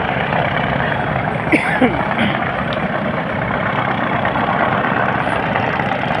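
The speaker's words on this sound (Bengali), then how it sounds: "আরেকটি লঞ্চ আবার ফেরিঘাটের দিকে উদ্দেশ্যে আসছে" A passenger launch's engine at the Chakbazar ferry ghat in Dhaka sends out a loud, steady low rumble that fills the whole stretch, with a few faint knocks on top and no speech heard.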